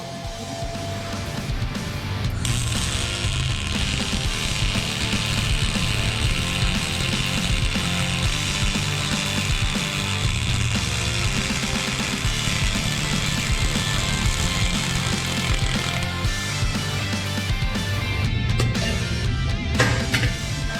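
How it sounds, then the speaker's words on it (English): A Chief MultiMig 525 welder lays a bead on a test coupon, a steady loud buzzing crackle that starts abruptly and runs for most of the clip before easing off, close up and without talk. "we're going to do another weld coupon with this."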